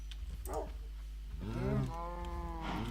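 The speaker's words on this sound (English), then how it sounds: "So we've obviously got the cows in here" Two drawn-out cow moos from the video game Minecraft, close and loud, the second long and wavering, with a faint low hum underneath and no talking.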